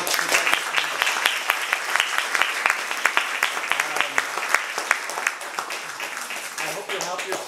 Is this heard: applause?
yes